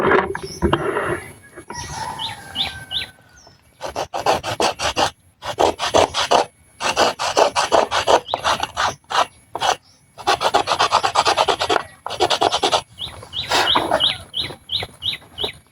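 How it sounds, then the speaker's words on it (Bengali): A wooden slingshot is rubbed and filed to a finish in loud, close, rhythmic rasping strokes with brief pauses, while chickens cluck faintly in the background. "এটা একটু ঘষে একটু ফিনিশিং করে নিই"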